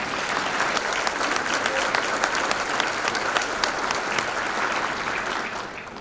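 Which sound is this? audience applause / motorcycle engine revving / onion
audience applause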